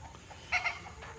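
On a rural farm, free-range chickens give a couple of quick clucks close by, short and moderately loud above quiet outdoor background.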